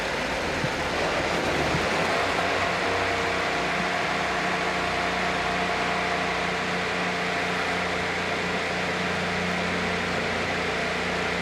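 Several IndyCar race car engines fire up at Mid-Ohio and settle into a steady, droning idle, with a dense continuous hum that stays loud throughout.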